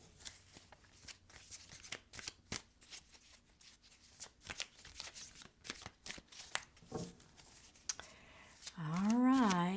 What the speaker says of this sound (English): Let's get a couple more cards out here.